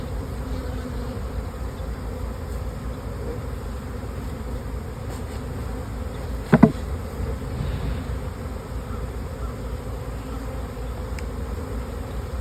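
Honey bees from an overwintered colony being split into nucs, a dense continuous buzzing swarm close by, steady throughout with one brief sharp knock partway through.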